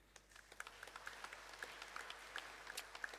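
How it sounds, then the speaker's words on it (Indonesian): Church congregation clapping during a service, heard as quiet, scattered hand claps that continue steadily through the short stretch. "Saya mau kita tepuk tangan dulu."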